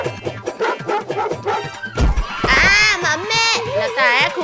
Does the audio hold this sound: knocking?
no